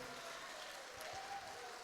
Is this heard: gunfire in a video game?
no